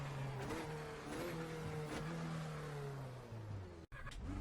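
A Formula Renault 2.0 single-seater race car in iRacing, its engine droning steadily at close range with pitch rising and sliding through gear changes, then a brief cut before it picks up again.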